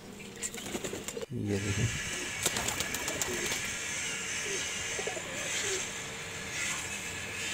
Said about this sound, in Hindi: इनके कबूतर पूरे मुल्तान के अंदर मशहूर हैं